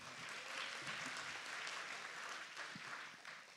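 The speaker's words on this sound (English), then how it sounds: "Give a round of applause to KJ and Ashraf." A seated audience gives a round of applause at a talk event, a dense continuous patter of many hands at moderate distance, steady throughout and fading slightly at the end.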